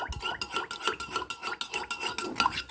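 A utensil stirs a sour cream and gelatin mixture in a bowl, producing a rapid, steady run of clinks and scrapes against the sides, close and fairly loud, with no talk.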